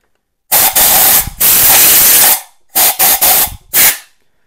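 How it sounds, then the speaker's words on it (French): Compressed-air blower blasting into the spark plug well of a Yamaha FJR 1300, several loud close hissing bursts of uneven length separated by short silences. "je vais refaire un coup de soufflette à l'intérieur de mon puits de bougie"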